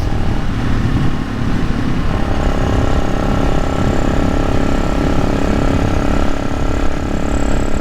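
A Kawasaki Z900 motorcycle heard as a steady, loud engine drone with a continuous throbbing hum throughout, close and alone without speech.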